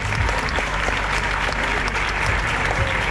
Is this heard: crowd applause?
yes